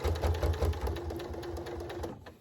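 A sewing machine stitching down the thick pleats of a fabric face mask: rapid close needle chatter in a fast even rhythm, loud at first then steadier and slightly softer, no talking.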